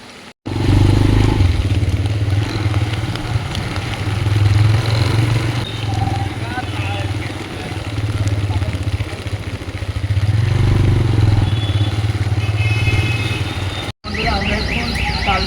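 A motorcycle rides through heavy rain, its engine droning loud and steady with swelling rumbles under constant rain and wind noise, broken by two brief cutouts near the start and end.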